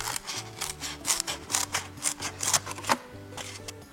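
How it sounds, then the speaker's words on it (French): Scissors cut around the rim of a plastic food tray, giving a close series of crisp, rhythmic snips and crunches about two to three per second, moderately loud with no talking. "Avec mon ciseau, je viens découper le tour de la barquette."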